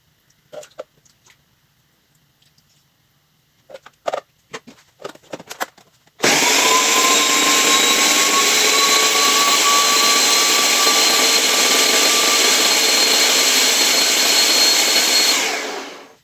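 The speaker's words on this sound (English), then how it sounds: "now we are just going to add this to the blender and puree it up" A blender purees cooked Roma and cherry tomato spaghetti sauce, starting abruptly after a few soft kitchen knocks and running as a loud, steady whir for about ten seconds before cutting off.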